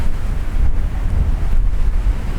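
Ocean surf at Playa Dorada beach in Puerto Plata rolls in as a continuous loud roar, heavily buffeted by wind rumbling against the microphone, with no voices.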